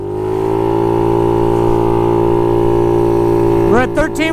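A Honda Ruckus scooter with a fuel-injected GY6 171cc engine holds a loud, steady high-revving drone close by, then the revs drop and blip a few times at the end.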